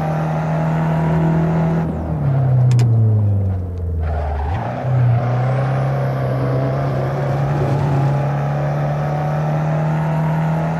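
Simulated car engine in a racing video game, held in third gear, revving loud and steady with a dip in pitch and a quick climb back, droning continuously on the track.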